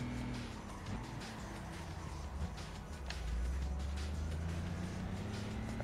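Race car in Gran Turismo on PSP braking hard, with a steady engine drone and brief tire squeal and skid rising over it, near and continuous.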